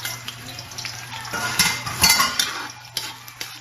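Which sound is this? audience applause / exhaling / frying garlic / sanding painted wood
frying garlic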